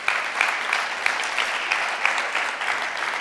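A church congregation claps, a broad, even round of applause at moderate loudness with faint rhythmic accents, steady throughout and without speech.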